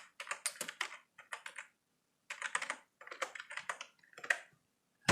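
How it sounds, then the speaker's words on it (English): Fingers type on a computer keyboard in quick, clattering bursts of keystrokes, separated by short pauses, close and clear with no talking. "type the content you want to insert"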